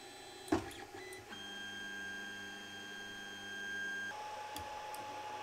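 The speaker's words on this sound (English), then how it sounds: "Let's listen first to the homing sequence before." A Creality Ender 3 3D printer on its stock mainboard runs its homing sequence: a click, then whining stepper motor tones that shift pitch as the axes move, over a steady fan hum, fairly quiet.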